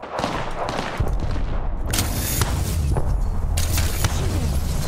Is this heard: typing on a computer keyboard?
no